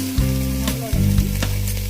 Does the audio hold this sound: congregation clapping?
no